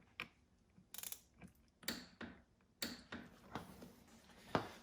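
A torque wrench ratchets in short clicking bursts with brief pauses between them as the clutch cover screws on a motorbike are tightened. The clicks are close but faint, with a sharper metallic click near the end.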